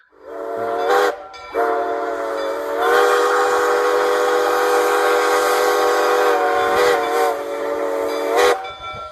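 A light Pacific-type steam locomotive whistle blows in a short toot, then a long sustained chord-like blast, loud and close.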